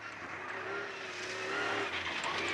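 Rally car driven hard on the gravel forest stages at Epynt during the 2012 British Cross Country Championship, its engine roaring steadily and close throughout, with gravel noise and brief tyre scrabble.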